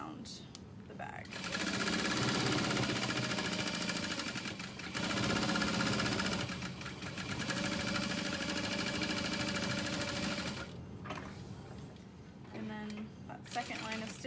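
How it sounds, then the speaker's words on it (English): A sewing machine stitches around the edge of a satchel bag, running in long steady buzzing stretches with short pauses, close by, with a voice talking at moments. "And then I'm going to stitch all the way around the bag."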